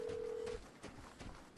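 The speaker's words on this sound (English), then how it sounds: "Oh, phone is ringing." A phone rings inside the Vigor video game: a steady electronic tone holds for about half a second, then fainter pulsed ring bursts follow over quiet game ambience.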